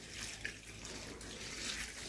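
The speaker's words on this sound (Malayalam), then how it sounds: "ഇപ്പം ഇതെല്ലാം കൂടി വെള്ളം ഒഴിച്ച് മിക്സ് ചെയ്യണം" Water pours in a steady, continuous stream into batter, a close splashing flow with no talking.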